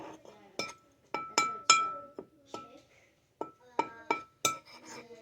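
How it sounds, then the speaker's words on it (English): A spoon clinks against a glass dish while a microwave chocolate chip cookie is mixed, with about a dozen sharp, bright taps in irregular clusters, close and clear over a quiet background. "you're going to take your spoon."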